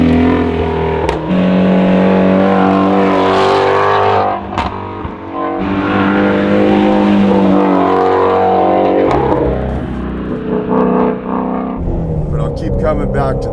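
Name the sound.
sports car exhaust revving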